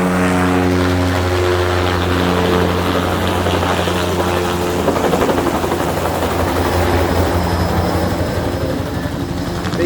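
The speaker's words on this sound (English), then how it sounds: "Watch how low this guy comes with a helicopter." Low-flying helicopter passing just over the trees while spreading fertilizer on bogs, its loud rotor thump and engine drone steady and close throughout.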